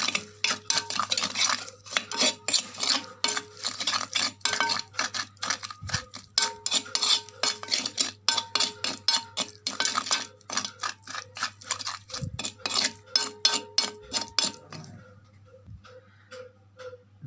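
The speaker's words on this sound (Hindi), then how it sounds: "और इसको अच्छी तरह से मिक्स कर लेंगे" Chicken is mixed with spices and cooking oil using a utensil against a bowl, giving a fast, regular train of clinking, scraping strokes that runs close and loud, then stops near the end, with no voices.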